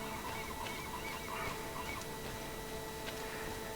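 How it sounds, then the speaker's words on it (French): Seagulls in the video game GreedFall, honking cries scattered over a steady low ambient bed, faint and distant, with no talk. "il y a le bruit des mouettes, hein, mais c'est sympa"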